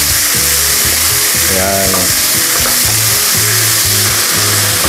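Tomatoes sauté in a hot pan for a Filipino adobo with tomato dish, giving a loud, steady sizzle and crackle throughout, with a voice briefly speaking over the frying.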